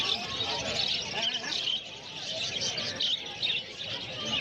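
Many caged birds, including white Java sparrows, chirp and tweet constantly at the Uluberia pet bird market in Kalibari, a busy chorus of high calls mixed with nearby talk.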